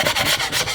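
A mud knife scrapes and sands down high spots on a tile floor, giving loud, close rasping strokes in a quick back-and-forth rhythm.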